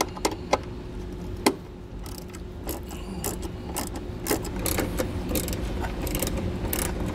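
A driver with a T20 Torx bit backs out screws on a vehicle hitch installation, giving sharp, close ratcheting clicks and taps over a steady noisy background.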